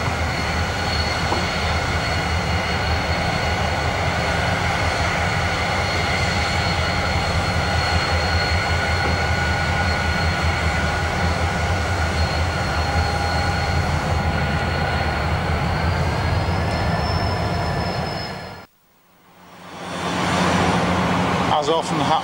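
Southern Pacific train held at the Union Pacific yard in Salt Lake City, a steady idling locomotive drone with tonal whine, continuous and fairly loud, cutting off briefly near the end before the hum resumes.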